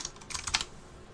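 Rapid clatter of keystrokes on a computer keyboard, a quick cluster of light clicks up close followed by quiet, with no voices.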